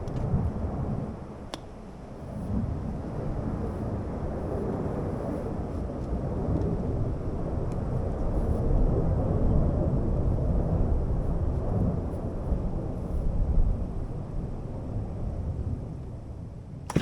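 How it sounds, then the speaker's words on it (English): F-16 fighter jets flying overhead at a rural digging site: a broad, low roar rumbles continuously, swelling slightly and then easing, distant and steady with no talk. "I don't know if you can hear the F-16s."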